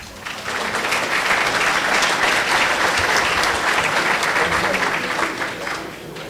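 Loud, sustained applause from a luncheon audience for the 2015 honor roll student athletes at a scholar athlete event, swelling quickly, holding steady, then tapering off.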